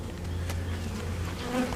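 A swarm of honeybees buzzes in a hive setting, a steady droning hum with a few brief louder passes of individual bees near the listener.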